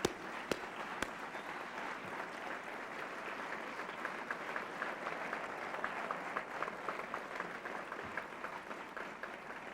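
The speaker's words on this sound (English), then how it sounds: "A big round of applause." An audience claps in a steady, dense round of applause across a large crowd, sustained and fairly loud throughout with a few sharper individual claps near the start, no talking over it.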